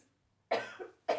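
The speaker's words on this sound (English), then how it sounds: "I'm just going to cough." A woman's dry throat gives two sharp, close coughs, the first a double burst and the second a single hack after a short pause, in a quiet room.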